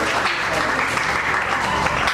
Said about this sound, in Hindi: जोरदार तालियां लाभा कबराड़े जी के लिए।